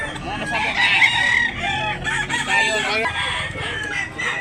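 White Claret gamecocks crow and cluck close by in Cebu, with several overlapping crows and clucks filling a few seconds.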